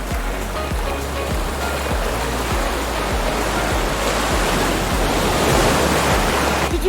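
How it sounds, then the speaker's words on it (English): Water and oil slosh back and forth inside a plastic bottle as it is tilted up and down, giving a continuous rushing, wave-like wash with soft rhythmic surges. The sound is loud and close, with no talking. "Tilt the bottle up and down and observe what happens inside."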